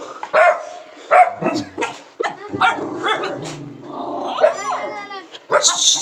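Dogs bark and yip in short bursts close by, with whimpering between, while a person talks over them.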